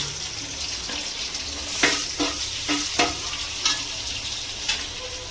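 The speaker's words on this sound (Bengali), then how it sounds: "তেলের মধ্যেই দিয়ে দেবো কেটে রাখা পেঁয়াজ।" Chopped onions fry in hot oil over high heat in a pan previously used for frying fish. A steady sizzle runs throughout, broken by several sharp scraping knocks from stirring.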